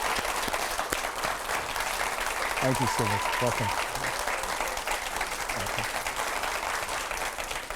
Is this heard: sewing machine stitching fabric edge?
no